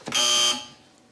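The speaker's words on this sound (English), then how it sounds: "should any of our panel feel the need to bother with their buzzers today, they sound like this" A quiz show panel buzzer gives one loud, bright electronic tone lasting about half a second before cutting off, with a faint tail fading afterward.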